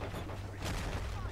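Gunfire in the Men of War video game, a faint, brief burst of distant shots with a sharper report partway through, heard quietly under low background noise.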